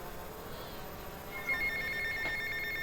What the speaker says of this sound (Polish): O, jest i telefon.